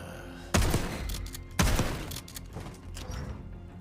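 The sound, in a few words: gunfire from a gun in Call of Duty: Black Ops 6 video game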